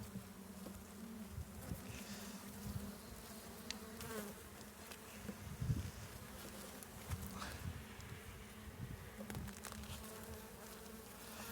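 Honey bees buzzing around an open hive during a spring inspection, a steady low drone with individual bees zipping past the microphone at close range, no talking.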